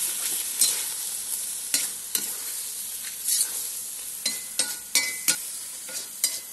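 Beef frying without oil in a cauldron over a campfire, a soft steady sizzle broken by repeated sharp scrapes and clinks of a utensil stirring the meat, no talking.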